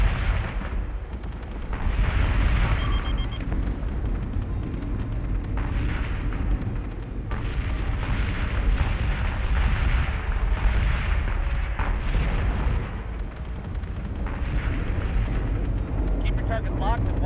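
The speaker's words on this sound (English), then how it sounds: "Secondary battery, full attack mode, fire at will." Warship secondary battery guns fire continuously in a naval combat video game, a dense barrage of booms and blasts rolling under steady talk throughout.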